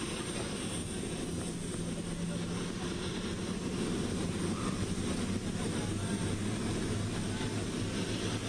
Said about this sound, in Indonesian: pesawat kenegaraan Turki yang mengangkut rombongan dari Presiden Turki Erdogan beserta delegasi akan segera lepas landas